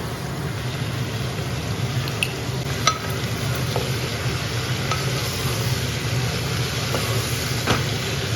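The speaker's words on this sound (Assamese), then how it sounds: "মাংসৰ নিচিনাকৈ ইয়াক লৰাই ভাজি থাকিম" Jackfruit stir-fried in a pan for curry, a steady close sizzle with scattered scraping and clinking from stirring, continuous and moderately loud.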